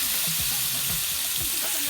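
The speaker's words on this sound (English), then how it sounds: "the first thing you want to hear when you put the chicken on the pan is sizzle" Dense, steady sizzling and crackling of chicken frying in hot oil in a pan, close up and continuous, with faint low murmurs underneath.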